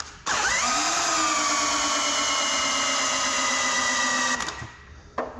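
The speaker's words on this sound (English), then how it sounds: "let's see how well the drill can handle the high-speed shift" A power drill driving a Cockshutt Hydra Power tractor transmission in high-speed shift whines at steady high speed for about four seconds, then spins down, followed by a brief short burst.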